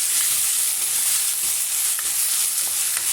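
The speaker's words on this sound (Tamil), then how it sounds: "ஒரு பெரிய சைஸு தக்காளி பழம் வந்து கட் பண்ணி வச்சுருக்கேன், அதையும் சேர்த்துக்கலாம். சேர்த்துட்டு நல்லா வந்து கலந்து கொடுத்துக்குங்க." A large chopped tomato is stirred into onions sautéing in a pan for a chicken gravy. A steady, loud sizzle fills the clip, with faint scraping stirs and no talk.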